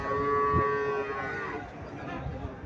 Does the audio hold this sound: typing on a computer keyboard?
no